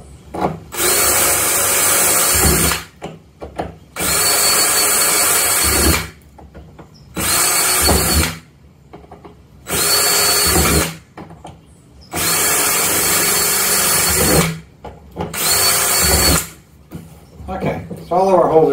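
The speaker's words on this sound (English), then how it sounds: "Now I can just drill out the next 6 holes." A power drill whines in six separate bursts of a few seconds each, with short pauses between, loud and close.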